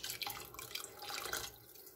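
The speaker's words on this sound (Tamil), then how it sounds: "கொஞ்சமாக தண்ணி சேர்த்து" Water trickles and splashes as a small amount is poured into simmering Tamil fish kuzhambu in a pan, a light continuous pour lasting about two seconds with no talk.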